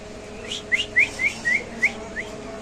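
A series of short, high chirping calls from a pigeon, about six in quick succession, over a steady low hum; fairly close.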